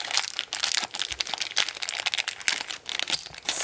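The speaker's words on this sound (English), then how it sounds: "Take out the little blind bag in there if I can get a hold of it" Plastic blind bag packaging crinkling close up as a small bag is pulled from a Shopkins Real Littles freezer series box, busy irregular rustles and crackles with no talking.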